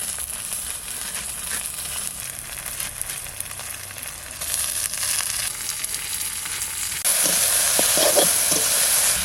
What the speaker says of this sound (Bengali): পেঁয়াজ আর রসুন একসঙ্গে আছে, এটা ভেজে নেব